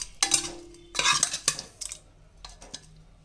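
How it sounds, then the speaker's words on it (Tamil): Cooked dal is mashed with a wooden churner (mathu) in a pot, heard as a few close, uneven bursts of wet scraping and knocking, with short pauses between strokes. "இதை நம்ம மத்து போட்டு நல்லா அப்படியே மசிச்சுக்கலாம், இல்லை கரண்டிலையும் வச்சு நல்லா நம்ம மசிச்சு விட்டுக்கலாம்"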